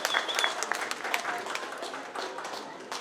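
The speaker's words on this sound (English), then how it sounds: "can we get a round of applause for them" Community gathering at a Regent Park launch event breaks into applause, a crowd of hands clapping steadily at moderate loudness, easing slightly toward the end.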